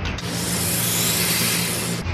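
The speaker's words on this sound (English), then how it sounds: "I just give it a little drill from underneath." A hand drill bores a hole from underneath into an older telescope mount being converted to a Vixen-style fitting, a steady close grinding rasp running continuously for about two seconds before stopping.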